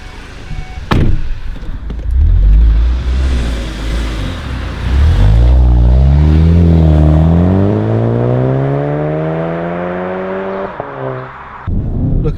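A VW Golf GTI Mk7.5 engine accelerates hard while driving, its loud note climbing steadily in pitch after a downshift, following a brief thump and a rumbling start, heard up close from inside the car.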